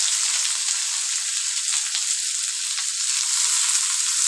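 Chopped onion frying with dry spices and a bay leaf in a pan: a loud, constant hiss of sizzling oil, close up and unbroken, with no voices.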